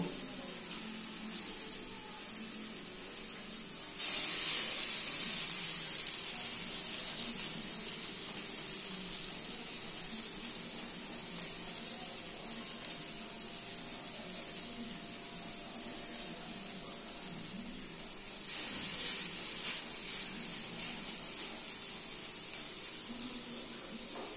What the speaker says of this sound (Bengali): ভাজা ভাজা হবে, তারপরে পরে তুলব, ভাজা হয়ে যায়।